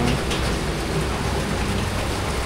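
Heavy rain during a typhoon pours down in a steady, dense wash at full loudness, with a few low rumbles underneath and no voices.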